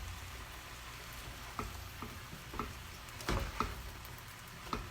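Sliced squash sizzles and fries steadily in a lidded skillet, with a few soft clicks and scrapes as it is stirred now and then. The cooking is close and fairly quiet, with no talking.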